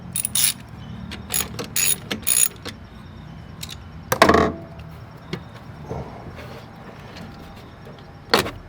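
A serpentine belt being pushed onto a pulley on a 2011 Hyundai Sonata with a 1.8-liter engine, heard as close, sharp rubbery squeaks and clicks in short bursts, one louder scraping snap midway, over a quiet garage background.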